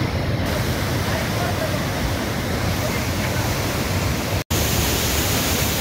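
Bhatta Falls waterfall in Uttarakhand roars as a steady, loud broadband rush of heavily flowing water, close and continuous throughout with no talk over it.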